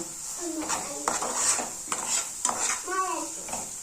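Spoon scraping and stirring fried soya mixture in an oily pan, a series of close, brisk metallic scrapes and clinks over a faint steady sizzle.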